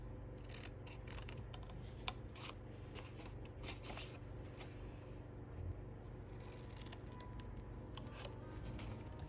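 Scissors make faint, close snips through paper for a heart-shaped treat box, several quick cuts over a low steady background hum, without talking.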